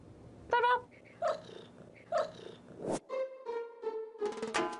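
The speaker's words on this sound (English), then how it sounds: "The Bengal cat doesn't meow quite like other cats." A Bengal cat makes a series of short, raspy, bark-like calls at irregular intervals, fairly close, followed by a longer, strained vocal call.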